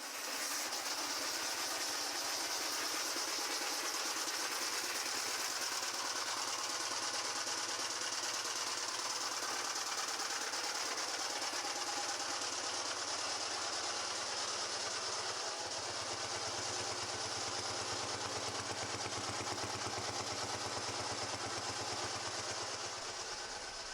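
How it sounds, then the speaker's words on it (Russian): An old small engine on a homemade retro trike runs steadily and loudly for the whole stretch, with a rough, buzzing drone and a faint uneven rattle underneath. No voices. "Моторчик этот очень старый, заводится неплохо, но здоровье у него уже не то."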